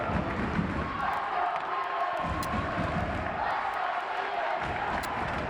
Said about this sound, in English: Lively crowd here, keeping things interesting for everybody.